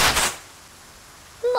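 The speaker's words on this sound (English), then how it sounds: "Let's give them another volley, lads." A short, sharp volley of rifle fire in the Worms Ultimate Mayhem video game, a loud crackling burst at the start that drops into quiet before a cartoonish voice cuts in.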